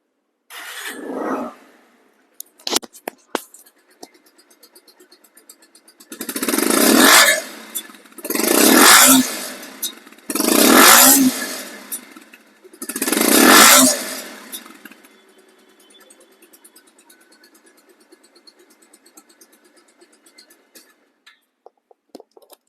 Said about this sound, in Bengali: এখন বাইকটি সাউন্ড কোয়ালিটি শোনাবো